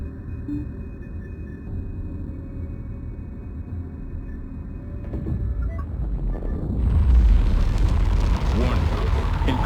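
Enemy frigates exploding during a space battle in the strategy game Homeworld 3, heavy rumbling booms building over a steady low drone of combat, growing louder and denser toward the end, with no talk.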